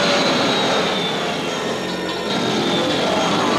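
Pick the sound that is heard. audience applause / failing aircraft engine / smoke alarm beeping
failing aircraft engine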